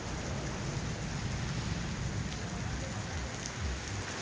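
Steady heavy rain pours down during a dangerous storm that floods water into a home, a dense continuous hiss with low rumbling spatter, loud and close throughout with no voices.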